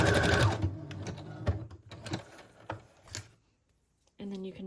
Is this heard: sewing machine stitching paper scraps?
yes